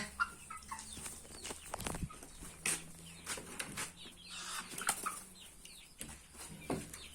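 Hens and roosters in an evening poultry coop cluck and squawk in scattered bursts, with occasional wing flaps, fairly close but quiet overall.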